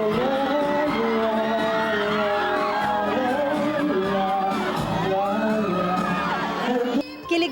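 Fans cheer and whoop as a singer serenades them at a One Mindanao event, with excited crowd yells over loud singing and music that continue steadily.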